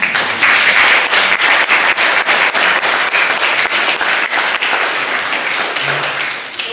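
An audience applauds after a poetry reading at a literary festival, with steady, dense clapping that continues throughout and fades a little toward the end.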